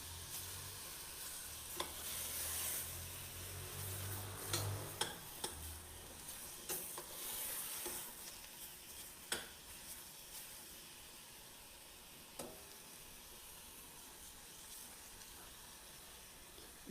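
Food sautéing in a pan with a pinch of salt, a continuous soft sizzle and hiss broken by scattered spoon clacks and stirring scrapes, close and quiet with no talking.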